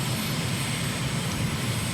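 Steady aircraft engine drone from a simulated plane on landing approach at dusk in Angola, continuous and even in level throughout with no other sounds.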